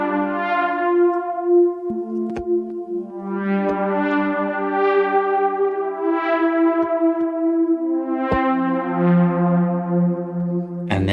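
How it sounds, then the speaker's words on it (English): Sustained synthesizer tones with long echoing repeats and a shimmering, bell-like tail that smears each note into the next. "little bit of echo, which smooths that out."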